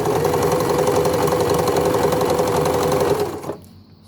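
An Empisal Dressmaker 270D sewing machine running a triple straight stitch, a steady close mechanical whirring and rapid needle clatter that stops abruptly near the end.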